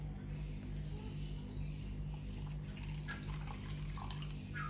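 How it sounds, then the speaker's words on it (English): Water drips and trickles out of a casting mold in small irregular splashes over a low steady hum, quiet and close, with no talking. "Now emptying out the water, getting the mold as dry as possible."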